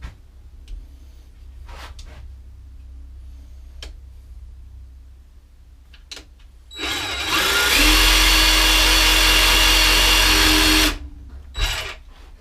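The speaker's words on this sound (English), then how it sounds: "Can I use the jigsaw? Let's give it a whirl." A jigsaw cutting through a rustic ash wood desk, one loud sustained buzzing, rasping cut of about four seconds, close up, after scattered quieter handling knocks.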